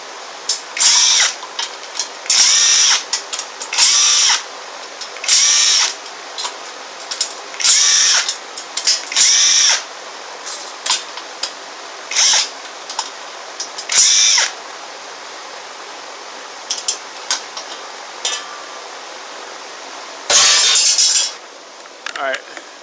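A power tool runs 10mm bolts out of a Honda J30A5 engine during teardown, whirring loudly in repeated short bursts of one to two seconds with brief pauses and clinks between them.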